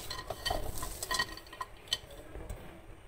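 Spoon stirring onions, garlic, chilli and spices in a kadai for a traditional village chicken dish, a series of close scraping and clinking strokes with a faint sizzle beneath.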